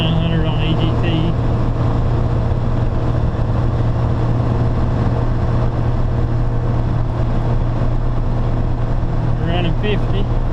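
A 1st generation 12 valve Cummins diesel pickup tows a load uphill in third gear at about 40 mph, its engine droning in a loud, steady, continuous labor with a low rumble throughout.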